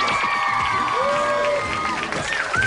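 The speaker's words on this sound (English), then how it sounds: "big round of applause, ladies and gentlemen." A game show studio audience at the 1995 Carmen Sandiego quiz show applauds and cheers for a contestant, with clapping and whoops mixed with a host's voice and tonal music cues over the top, brief and fairly busy.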